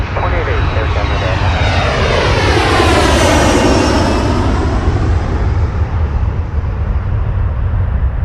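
An airliner takes off at Toronto Pearson Airport, a loud, continuous engine roar with a jet whine sweeping across as the plane passes close by, and a radio voice occasionally audible beneath the noise.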